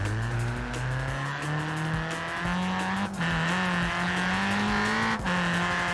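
A VW Golf Mk1 engine in Forza Horizon 4 revs hard and steadily while drifting, its loud droning tone climbing and dipping with brief gear-shift breaks and faint tire squeal underneath.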